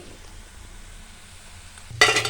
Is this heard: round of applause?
no